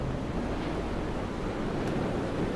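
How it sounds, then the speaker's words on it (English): Wind gusting across the island in the Dear Esther game, a steady broadband roar that stays loud and unbroken throughout, with no voices. "it is getting really windy and nasty up here."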